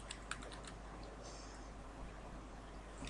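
Keys clatter on a computer keyboard in a quick burst of close, light taps at the start, then sparse keystrokes over a low steady hum.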